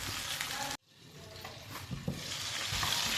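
Chopped tomato sizzles as it fries in a pan of dhaba-style chana dal. The frying pauses for a moment, then resumes with scraping stirs and crackling, close and continuous.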